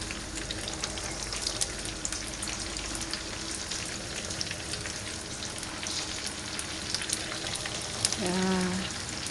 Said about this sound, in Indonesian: dijadiin 2 kali gorengnya, jadi nggak penuh-penuh di teflonnya